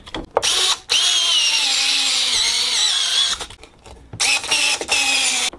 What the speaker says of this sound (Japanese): これ便利でしょ。電動アシストドライバー。